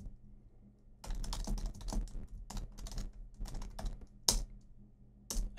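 Typing on a computer keyboard while setting up a custom export script for Cubase 8, with bursts of close, crisp key clicks separated by brief pauses and a sharper keystroke near the end.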